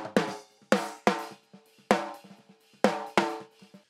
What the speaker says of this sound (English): the mid-range, which was still soloing, now sounds like this on 6 dB crossovers.